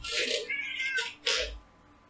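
A cat meows loudly several times in quick succession, drawn-out and whiny, close by.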